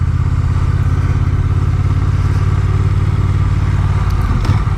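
A Honda Rebel 1100 motorcycle engine while riding, a loud, steady low drone with a constant throb and rushing noise, continuous and close throughout.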